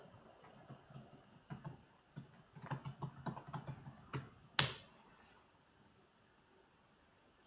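Typing on a computer keyboard, a quiet run of irregular clicky key taps building over a few seconds, ending in one sharper louder hit, then near silence.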